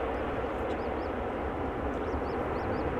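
ITA Airways airliner in old Alitalia livery flying past at Amsterdam Schiphol Airport, a steady, loud broadband jet roar that holds evenly throughout, with faint bird chirps above it.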